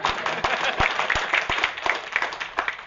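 Audience applause at a leadership talk: a steady wash of dense clapping, with several louder, nearby individual claps standing out above the crowd.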